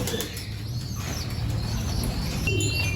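Pigeons in a breeding loft and aviary, soft low cooing repeating throughout with occasional chirps and wing flutters, fairly faint and close, no voices.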